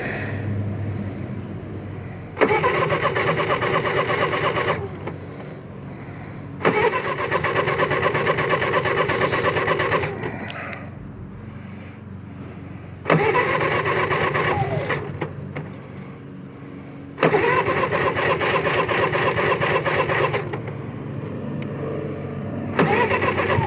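A Honda 3000is generator is started for the first time after sitting all winter: four separate cranking attempts, each a loud mid-pitched engine burst lasting a few seconds, separated by quieter gaps, close by.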